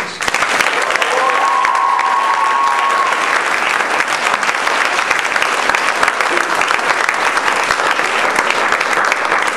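A live audience applauds a spoken-word poem performance, a loud, dense, sustained burst of clapping that holds at a constant level for nearly ten seconds, with a brief tonal whistle or voice early on.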